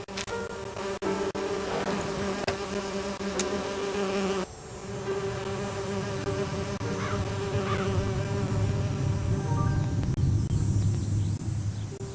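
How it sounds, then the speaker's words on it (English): A dense, continuous buzzing of many bees, loud and close, droning steadily throughout with a slight dip partway through. "There, the bees are now fast asleep"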